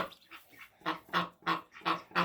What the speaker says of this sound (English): You can hear the other ducks.